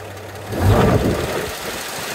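A 1955 Chevy Cameo pickup with a 235 Blue Flame engine and a three-on-the-tree gearbox revs briefly. The low engine note swells up, then settles back toward idle, loud and close.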